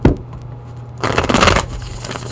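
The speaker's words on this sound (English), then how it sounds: "Give this a good shuffle for Aquarius here." Tarot cards riffled and shuffled by hand, starting with light soft flicks and then building into a loud, dense burst of card shuffling that continues at a steady clatter.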